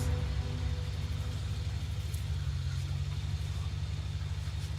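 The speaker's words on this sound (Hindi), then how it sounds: "गाड़ी आ रही है" A Mercedes car idles nearby in a film scene, its steady low engine rumble continuous throughout at moderate level with no clear arrival or revving.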